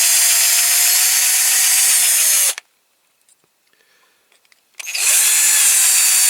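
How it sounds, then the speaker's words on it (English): Power drill grinding into the thin metal base of a Dinky Toys Dodge truck No 414, loud and close, running steadily for a couple of seconds, stopping for a quiet pause, then whirring up again. "I might drill that down a little bit more."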